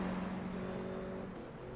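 A GR86 cup race car flies past through turn 3 on the Chicago street circuit in iRacing, its steady engine drone holding a sustained tone before shifting pitch as it goes by, with no talk.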